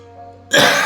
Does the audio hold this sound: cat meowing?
no